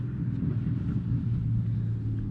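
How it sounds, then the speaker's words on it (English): A steady, low truck engine rumble drones on throughout, heavy and constant like a large idling vehicle nearby, with no speech over it. "we got a truck behind us. It's making some noise."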